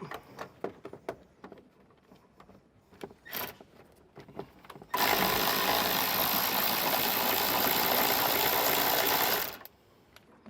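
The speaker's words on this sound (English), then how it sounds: "So we'll just go ahead with our socket, loosen this up." A socket wrench loosens a spring-loaded plastic 10mm nut on a 2021 Jeep Wrangler taillight: scattered small ticks and clicks, then a loud continuous whirring burst of about five seconds, close by and without speech.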